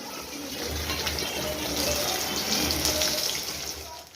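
A tap runs steadily into a sink while a doll is washed, giving a constant, fairly close gushing splash that holds for a few seconds with no speech over it.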